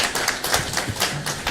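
Audience applause at a public gathering, a short burst of brisk, close hand clapping with irregular rhythm.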